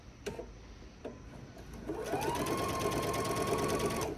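Sewing machine stitching a reversible bag, a couple of sharp clicks and then a steady, fast mechanical whir of needle strokes running continuously, close and loud with no voices.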